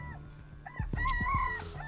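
A phone rings with a rooster-crowing ringtone, a shrill, wavering crow rising over a steady low hum in an indoor room, fairly close and moderately loud.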